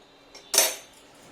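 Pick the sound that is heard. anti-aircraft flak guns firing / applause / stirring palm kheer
stirring palm kheer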